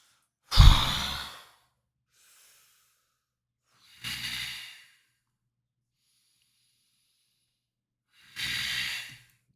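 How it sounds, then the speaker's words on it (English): A creature in a dark cavern breathes in deep, raspy, guttural breaths. Three long, airy exhalations come a few seconds apart, separated by silence, and the first one is the loudest. "It's a deep guttural kind of breathing."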